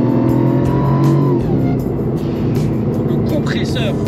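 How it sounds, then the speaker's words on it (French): Supercharged engine of a Mercedes SLR running with an automatic gearbox, a loud close rumble with a shift in tone midway, while someone speaks over it. "Écoutez le bruit du moteur,"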